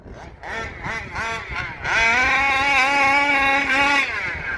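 Small ported 30.5 engine vehicle spinning its tires loose on gravel: a buzzing engine pulses in short bursts, then holds a loud, steady high rev as the wheels break traction, close and continuous.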